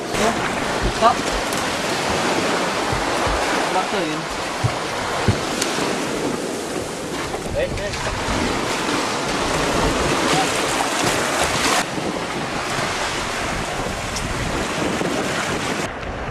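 Continuous rushing surf and wind buffeting the microphone, a steady roar of waves breaking on a black sand beach on Krakatau with no pauses.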